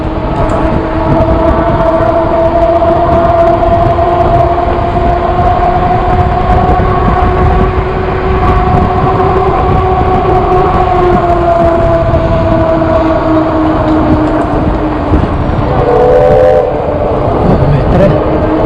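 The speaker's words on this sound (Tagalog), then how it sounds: "Ay, nagdadaan ng tren na eh." A train rolls beneath a bridge near the University Bridge, on a ride between the University of Washington and Fremont. A loud, continuous rumble with steady droning tones lasts the whole time, close and unbroken.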